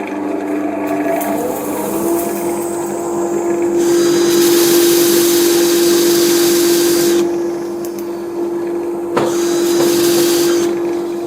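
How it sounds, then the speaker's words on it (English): A dust collector runs in a woodturning shop, a loud steady roar with a constant motor whine, while a sanding tool on a Fiji mahogany bowl swells in and out over it, with a brief knock near the end. "I've got to turn the dust collector on, so it'll be really noisy."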